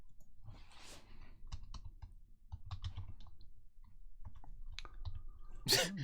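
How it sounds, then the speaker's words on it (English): Computer keyboard typing of French accent marks: scattered, close key clicks and short taps in irregular bursts, a quiet room between strokes and a louder rustle near the end. "I was typing in French accent marks"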